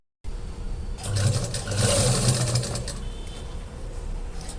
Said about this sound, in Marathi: आता इथून मी स्टार्ट करणार आहे शिलाई करायला अशी पूर्ण याला राऊंडला मी शिलाई करणार आहे